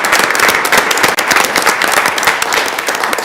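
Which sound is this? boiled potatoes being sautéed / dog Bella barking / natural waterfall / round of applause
round of applause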